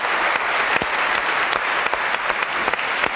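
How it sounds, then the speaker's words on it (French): A TV studio audience claps loudly and continuously, a thick wash of many hands with a few sharper individual claps standing out, and no talking over it. "Applaudissements pour Annie Pujol,"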